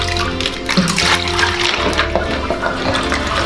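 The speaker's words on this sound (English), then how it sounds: "with the clear cold water I am washing it properly, and we'll squeeze it and keep it here" A makeup brush is rinsed and squeezed under clear cold running water, giving a continuous close splashing and trickling with irregular wet surges.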